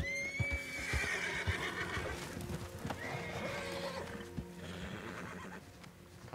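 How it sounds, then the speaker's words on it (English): A horse in Red Dead Online gives a loud, drawn-out neigh near the start, followed by a second whinny and scattered hoof clops, close and clear with no talk. "Wait, can I try to take another horse?"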